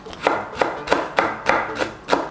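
A knife comes down on a board to cut Cheongyang chili peppers in half, giving six evenly spaced, crisp chops close by with no voices.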